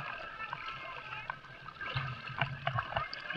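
Sea water splashing and sloshing as a rubber slipper is used as a paddle off Puka Beach, Boracay, with irregular close splashes and gurgles that grow busier toward the end.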